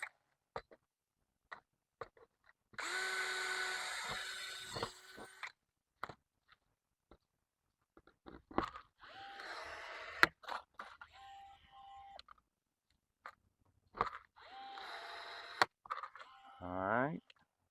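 A power drill bores holes in a swimming pool skimmer replacement part in several short whirring bursts, close and fairly quiet, with a person talking briefly between them.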